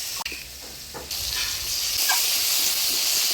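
Ground spice paste sizzles and hisses in hot oil with chunks of potato and eggplant in a pan, a steady loud frying crackle that rises after a brief stir.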